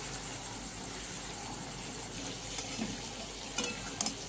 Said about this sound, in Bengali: এবার এটাকে নাড়বো, নেড়ে ফের চিনিটা গলে জল টাইপের হবে